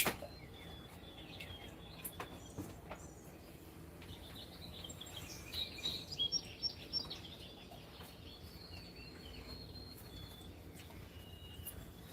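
Faint, scattered bird chirps and short calls ring out over a quiet outdoor background, with a brief cluster of brighter tweets around the middle.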